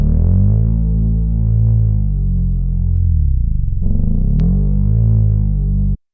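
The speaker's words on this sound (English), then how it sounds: "The first effect I'm going to apply to the sound is tube distortion." A deep, low synthesized bass from Serum with tube distortion drones loud and steady, thick with gritty overtones, briefly wavering in the middle before it cuts off abruptly at the end.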